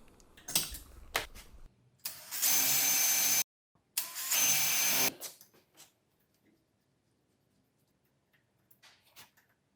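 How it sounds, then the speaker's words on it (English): Two sustained bursts of a power drill boring and tapping holes in a pair of metal nuts, each about a second and a half long, close and loud, separated by a short pause and followed by small handling clatter. "I drill and tap holes in them"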